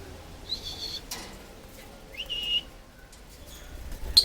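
A pet jenday conure gives a few short, high whistling calls, separated by quiet gaps over faint background noise.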